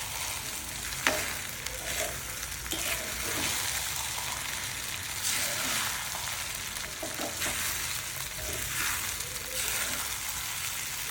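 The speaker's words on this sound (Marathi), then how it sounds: "साबुदाण्याला छानपैकी परतून घ्यायचं, चांगले मिक्स करायचं।" Sago pearls sautéed and stirred in a pan with fried potato for sabudana khichdi, giving a steady soft sizzle with occasional scraping stir sounds, no talking.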